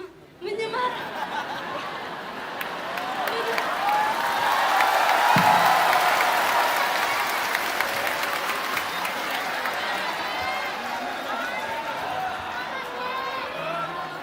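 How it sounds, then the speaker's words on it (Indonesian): An audience of students and guests at a school talk breaks into a long wave of applause and cheering, with laughter mixed in and some speech underneath, swelling to a loud peak before easing off. "Tepuk tangan dulu"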